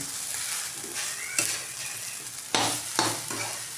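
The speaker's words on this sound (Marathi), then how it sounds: "इथे बघा 4 ते 5 मिनिटं शाबू चांगले परतून घ्यायचे" Sabudana (sago pearls) being sautéed in a pan for khichdi on high heat, a steady close sizzle broken by several louder scraping stirs of the spatula, with no talking.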